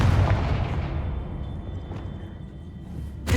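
A Confringo spell explosion in the Hogwarts Legacy video game, a loud booming burst at the start that rumbles and decays over a few seconds, followed by a sharp crack at the very end.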